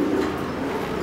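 A fancy pigeon at a pigeon farm gives a soft, close coo that fills the brief moment with no other sound.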